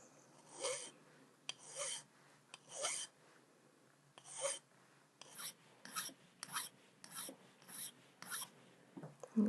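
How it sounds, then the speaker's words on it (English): A flat file rasps across the top of a metal jump ring for a locket, a series of about a dozen short, sharp scraping strokes in an even rhythm, close and alone. "just use a flat file to go across the top"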